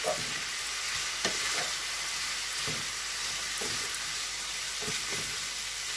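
Lamb samosa filling sizzles in a pan while being stirred, a loud continuous frying hiss punctuated by periodic spoon scrapes and knocks against the pan.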